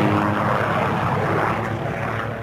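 Aircraft engine and rotor drone, steady and fairly loud, from a helicopter flying over remote New Zealand backcountry, a continuous broadband hum with no talk.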